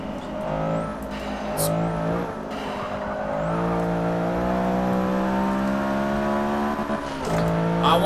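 A Honda B16 VTEC engine in the Forza 6 video game revs hard at Watkins Glen, its tone climbing steadily with a brief dip as it shifts gear, then screaming on at high pitch, loud and close.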